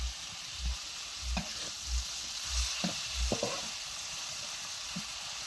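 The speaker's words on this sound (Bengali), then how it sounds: "মাছ ভাজা হয়ে গেছে" Fish frying in mustard oil, a steady close sizzle running throughout with soft stirring or turning clicks scattered over it and no voices.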